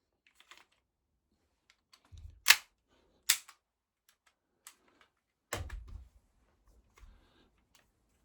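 A Tokyo Marui Hi-Capa 5.1 DOR airsoft pistol fires a few sharp, close snapping shots, spaced irregularly and separated by near silence.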